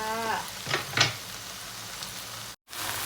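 Pad see ew with egg sizzles steadily in a hot pan, with a couple of sharp spatula scrapes early on and a brief dropout near the end, close and continuous.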